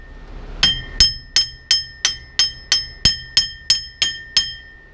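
Eleven sharp, evenly spaced hammer strikes ring out on the steel wheel hub of a 2001 Ford F250 during a wheel bearing job, each hit close and metallic with a bright ringing tail.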